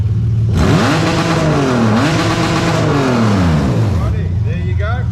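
A Toyota 1JZ-GE VVT-i engine revs up to 7,000 RPM, climbing from idle to a loud, high scream, dipping briefly and surging again, then falling back to a rumbling idle. Close and dominant.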